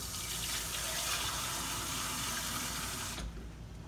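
Steady rushing water pours into a soup pot for about three seconds, then cuts off abruptly, leaving a quieter background hum.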